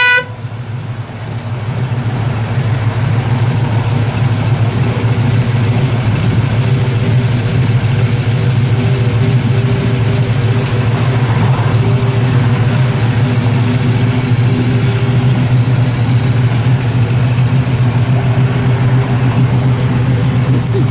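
A 1972 Chevrolet Nova SS with a GM crate 350 V8 and cam, started and idling close by with a steady deep rumble throughout.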